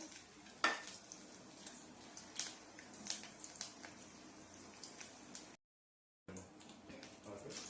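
Garlic cloves and chana dal are fried as a tempering in hot oil for gongura pappu. The sizzle is quiet and close, with scattered spoon clinks and stirring scrapes and a short silent gap near the end.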